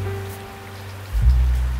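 April rain falls in a soft, steady hiss beneath a low droning hum, which swells into a deeper rumble near the end.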